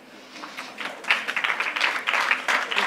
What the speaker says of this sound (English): a big applause for Fabumin